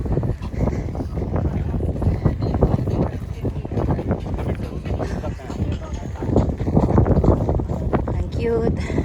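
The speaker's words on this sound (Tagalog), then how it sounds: "Super windy." Strong wind blows outdoors on a walk back to a parking lot near Oroville, California, buffeting the microphone with a constant low, rushing roar while people talk throughout.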